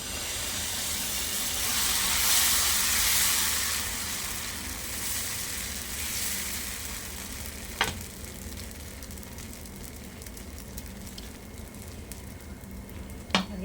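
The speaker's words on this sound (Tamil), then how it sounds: "இன்னொரு தோசையும் நான் ஊற்றி காமிச்சிட்றேன்." Pearl millet and black urad dal dosa batter sizzles on a hot pan with a steady hiss that swells early and then eases, with a couple of sharp clicks.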